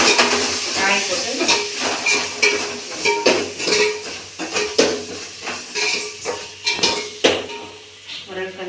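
Drumstick pieces sautéed with salt, chilli powder and turmeric in a pan, stirred with a spoon, giving a continuous loud sizzle broken by rapid, irregular metallic scrapes and clanks close by.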